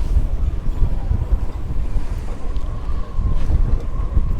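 Steady wind gusts buffet the microphone aboard a Balt Yachts Sun Camper 35 off Southampton. It makes a continuous low rumbling roar with a faint wash of water beneath it and no talking.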